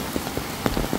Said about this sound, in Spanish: está pues con lluvia